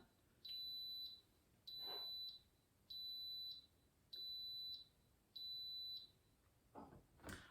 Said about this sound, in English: It's going to beep several times to let me know that it's done.